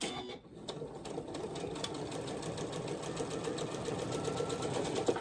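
A sewing machine stitches pajama pants with a steady, close, rapid mechanical whir. It runs unbroken throughout and grows slightly louder toward the end.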